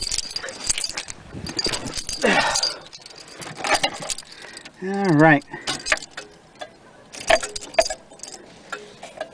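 Car keys jangle in short metallic bursts inside a car, close and moderately loud, with a person talking briefly around them.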